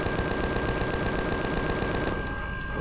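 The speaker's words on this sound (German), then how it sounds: "Ich schieß einfach drauf." Sustained rapid automatic gunfire from a weapon in the space survival video game Empyrion: Galactic Survival, a steady machine-gun rattle filling nearly three seconds before easing off.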